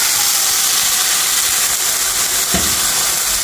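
Milk hits a hot pan of roasting coconut and sizzles, a loud, dense, steady hiss that fills the whole stretch, with one brief thump partway through.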